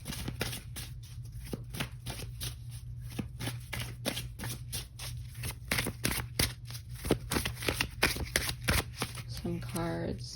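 Tarot cards are shuffled by hand close up, a rapid series of crisp flicks and riffles running nonstop, with a brief soft rustle as they are gathered at the end.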